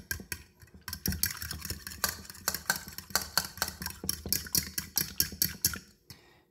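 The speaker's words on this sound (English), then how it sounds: "So I'm just going to whisk up those eggs a little bit." Eggs whisked in a bowl for French toast, a fast, steady rhythm of close, sharp clicking taps of the whisk against the bowl, continuing for several seconds before stopping.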